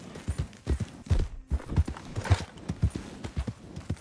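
A horse's hooves trot at a steady, even clip-clop rhythm on ground in Red Dead Redemption 2, close and clear with no talking.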